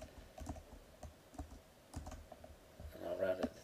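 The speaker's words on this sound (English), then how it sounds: "So I'll type all that" Numbers are tapped out on a computer keyboard in short, quick bursts of light clicks with brief pauses, faint and close.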